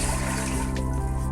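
About half a litre of water is poured from a jug in a kitchen, giving a brief continuous splashing trickle, close and steady, with no voices.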